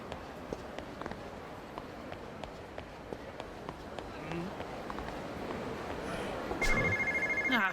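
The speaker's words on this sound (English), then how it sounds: "Found a payphone." A payphone rings with a steady electronic trill near the end of a Yakuza 0 game scene, rising over brisk running footsteps and city ambience.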